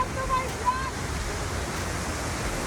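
Conception Harbour waterfall, a broad, steady rush of falling water heard from nearby, with voices briefly chiming in over it.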